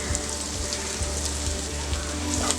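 Ginger, garlic and the white parts of spring onion sauté in a spoonful of hot oil over a full flame, giving a steady, dense sizzle and crackle close up with no voices.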